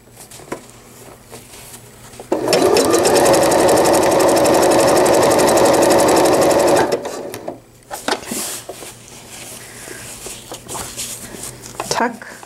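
A sewing machine runs in one continuous burst, stitching stretched elastic onto a cloth diaper cover: a loud, rapid needle chatter lasts about four seconds, then stops, followed by quieter fabric handling.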